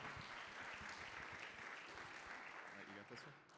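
Audience applause at a finance society awards event, dense clapping throughout with voices mixed in underneath, fading slightly near the end.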